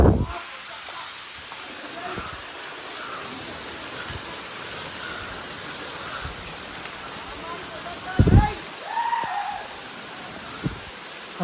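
Kataki waterfall near Borra Caves in Araku pours with a steady, broad rushing roar, broken by a few close thumps and faint murmuring voices.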